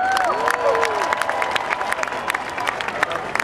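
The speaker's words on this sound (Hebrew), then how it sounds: "ועוד הפעם מגיעות מחיאות כפיים" At a Yom Haatzmaut Independence Day celebration in Tel Aviv's Kikar Rabin, a large outdoor crowd claps and cheers steadily, with whistles and scattered shouts over the applause.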